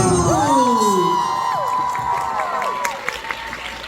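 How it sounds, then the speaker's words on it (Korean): A concert audience at a show cheers and whoops for a band member being introduced, with high shouts rising and falling and some clapping building toward the end. "박수!"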